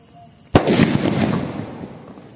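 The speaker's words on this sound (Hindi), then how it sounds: "चलिए फॉल बम को देखते हैं, ये कैसे चलता है।" A fall bomb firecracker goes off outdoors with a sudden loud bang, then a crackling, sparkling hiss and a few smaller pops that fade over the next second or two.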